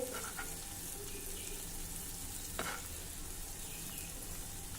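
Drumstick pods (shevga) frying in a pan with a little oil, giving a steady close sizzle throughout, with a couple of brief clicks and scrapes as the pods are turned over.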